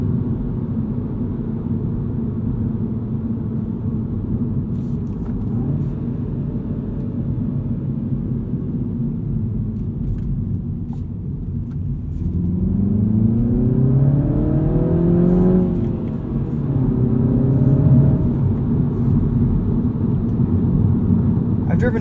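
A 2022 Mini Cooper S manual two-door hatchback hums steadily inside the cabin, then its engine note rises sharply twice as it accelerates through the gears, loud and close.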